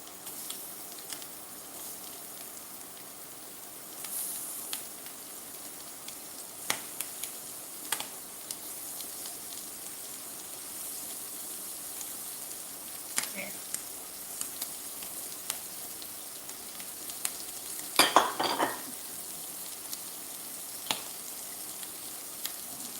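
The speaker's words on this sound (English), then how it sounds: "Then we're going to go ahead and throw our shrimp in there." Shrimp for tacos frying in a hot pan, a soft, steady sizzling hiss running throughout with a few faint clicks and one brief louder crackle near the end.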